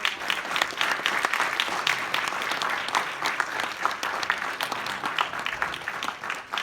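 An audience at an Indian event honoring 1971 war veterans applauds a decorated petty officer as he stands, steady dense clapping from many hands filling the hall without pause.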